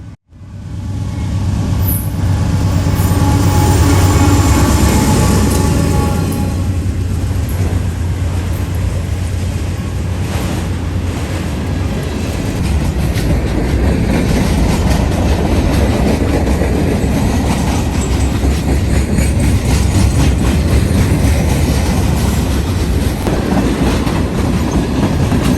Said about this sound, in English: the two Grand Trunk auto racks behind the locomotive, right in the front of the train